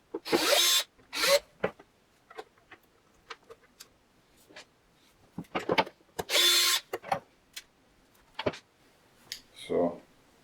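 Cordless power screwdriver whirring in short bursts as it backs small Phillips screws out of an air fryer's housing, with clicks and handling taps between runs, close and clear; someone speaks briefly.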